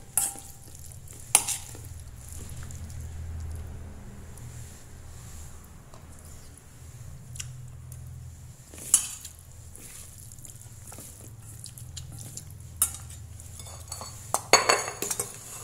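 Tofu salad is moved onto a plate with utensils: soft, close scraping and stirring punctuated by a few sharp clinks of metal against dishware, fairly quiet overall with no talking.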